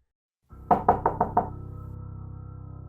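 Knocks on a car window as a horror story sound effect: five quick, evenly spaced raps, close and sharp, fading into a low sustained drone.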